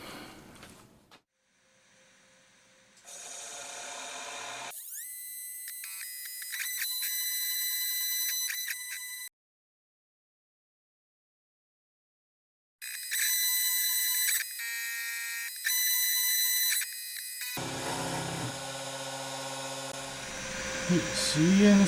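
A CNC milling machine cuts a metal lid part for a Honda Monkey engine build, producing loud, high whining tones with steady pitched spindle hums that stop and resume with a silent pause between cutting passes.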